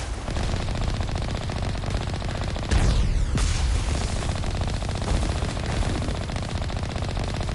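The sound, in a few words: gunfire from the video game Mass Effect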